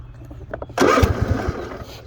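A Troy-Bilt Mustang XP 50-inch zero-turn riding mower engine cranks with a few brief sputters, then catches in a loud burst and settles into a rough running chug, close by.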